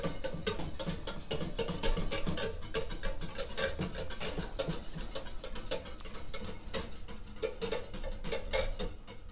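A whisk beats icing with a few drops of lemon juice in a bowl, making dense, rapid rhythmic clicking and scraping that continues steadily and close throughout.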